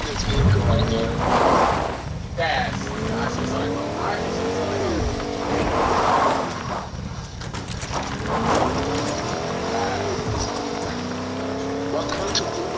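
A car in Fortnite driving with revving engine swells and rising whines, repeated surges a few seconds apart, while people talk over it.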